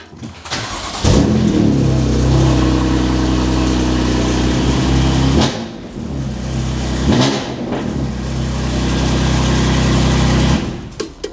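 A BMW F81 M3 Touring engine cranks and fires, then holds a loud, steady rev, drops briefly, and revs up again before cutting off.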